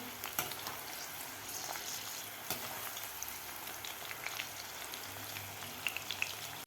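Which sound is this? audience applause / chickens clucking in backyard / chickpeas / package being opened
chickpeas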